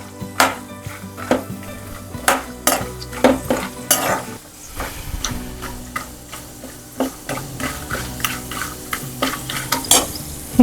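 Dry coconut roasting crisp in a pan for homemade chivda, heard as steady frying sizzle broken by repeated scraping stirs and sharp knocks of a spoon against the pan, close and fairly loud, with no talking.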